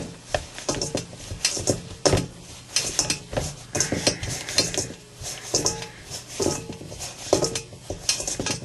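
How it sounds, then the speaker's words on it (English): Sourdough biscuit dough mixed by hand in a bowl, giving irregular clinking, scraping and clattering knocks that come close and fairly loud, with no talking. "I'll just finish mixing this with my fingers to all of the dry ingredients"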